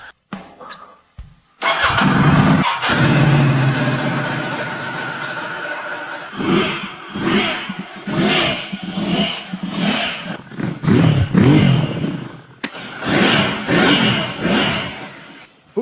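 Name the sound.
restored Ducati motorcycle engine starting and revving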